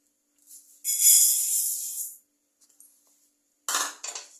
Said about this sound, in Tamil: நல்லா பொன்னிறமாக நம்ம பொரிய அரிசிக்கு வறுப்போம்